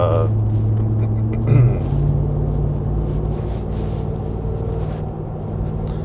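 A steady low road rumble and engine drone fill the inside of a car driving home late at night. A voice is faintly present over the hum.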